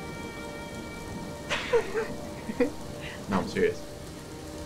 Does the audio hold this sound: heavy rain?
yes